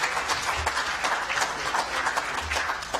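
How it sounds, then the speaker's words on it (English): A large audience at an economic summit gives steady, dense applause that continues at an even level throughout, with no speech over it. "Round of applause, ladies and gentlemen."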